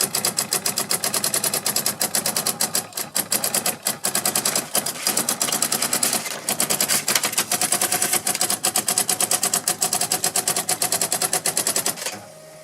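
A vintage daisy wheel printer attached to an old word processor hammers out characters in rapid, typewriter-like bursts, a dense run of sharp clacks with a few brief pauses, close and mechanical.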